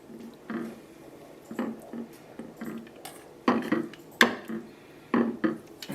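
Pasta tossed with Bolognese ragu is scraped and scooped onto a plate, producing a series of close utensil knocks, scrapes and soft clatters against cookware in an irregular rhythm.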